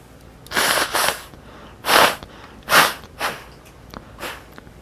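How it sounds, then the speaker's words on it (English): Several forceful nasal blows in bursts, close to the listener, separated by short pauses, like someone repeatedly blowing their nose. "Got to blow my nose again."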